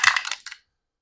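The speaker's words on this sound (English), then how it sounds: "Okay, so let's give it a roll and see how we do." Three dice rolled together, a quick close clatter of rattling hits lasting about half a second, then silence.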